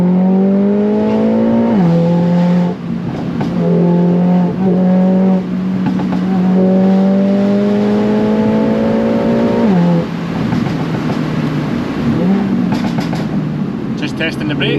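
A grey Mercedes-AMG A45S with a Cobra downpipe and Milltek race exhaust accelerating hard along a B-road, its engine note climbing through several gear changes with brief dips, loud and close throughout with some talk underneath.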